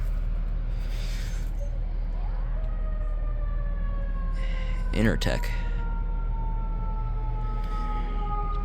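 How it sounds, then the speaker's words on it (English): A Federal Q2B fire truck siren winds down in the distance as a long, falling wail under steady machinery hum, with someone speaking briefly nearby. "There's a fire truck Q2B siren going off in the background."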